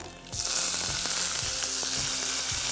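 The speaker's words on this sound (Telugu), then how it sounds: "ఇలా నెయ్యి వేసి తాలింపు వేసుకుందాం" Dried chillies and cumin sizzling in hot ghee for a dal tempering, a loud continuous frying hiss after a brief quieter start, with occasional stirring knocks and no talk.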